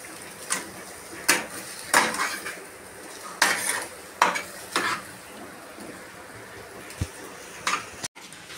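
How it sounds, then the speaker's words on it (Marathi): Boiled potato mixture mashed and stirred in a pan with the gas off, a run of scraping, clanking utensil strokes against metal in an uneven rhythm, close and fairly loud, with no talk. "हे बघा, नीट मॅश करून घ्यायचं आहे म्हणजे मिक्स करून घ्यायचं."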